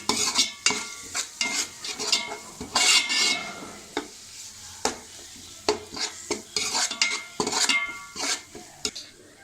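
A spoon stirs curry in a metal pan after chili powder is added, scraping and clanking in quick irregular strokes over a soft sizzle, close and fairly loud.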